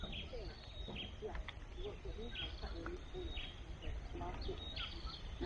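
Weaver birds call in a steady outdoor chorus of chirps and short tweets at a distance, over a constant insect-like hiss, with no voices.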